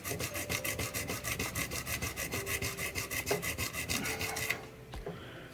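Contact pads on a 1972 Chicago Coin pinball coin unit are rubbed clean with a steady back-and-forth scrubbing, many quick rhythmic strokes heard up close before the rubbing stops abruptly near the end.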